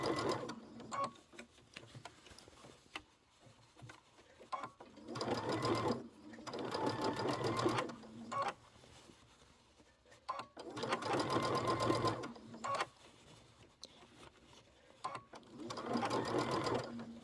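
Sewing machine running in several separate bursts of steady mechanical whirring while back stitching a fabric Santa cinch sack, with a pause between each burst and a voice talking quietly over parts of it.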